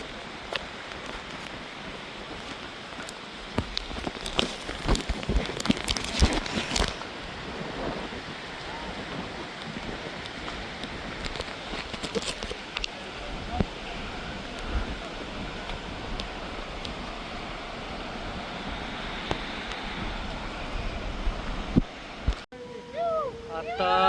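A steady roar of a waterfall near Fofsandi village in the Sahyadri hills fills the scene, broad and continuous, with faint voices barely present beneath it.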